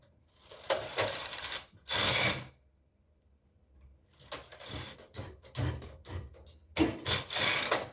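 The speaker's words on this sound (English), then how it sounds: "put the carriage on card knitting and knit 10 rows right now" Domestic knitting machine carriage running across the needle bed knitting pattern rows, loud rasping sweeps repeated in bursts with a brief pause between passes, close up.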